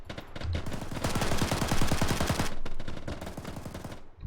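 Rapid automatic gunfire from soldiers engaging an artillery position in the military shooter game ArmA, a dense, loud rattle of shots sustained across the whole stretch with brief shifts in intensity.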